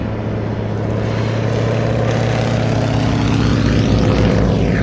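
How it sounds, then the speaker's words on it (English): A Beechcraft Staggerwing biplane drones steadily with a loud, close radial engine as it lands and taxis at an air show. The engine rumble stays constant throughout. "Waco returns to Earth"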